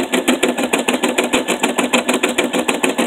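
An embroidery machine stitches a design onto pinned toilet paper, giving a fast, steady mechanical pulsing of even needle strokes, close and loud throughout with no talking.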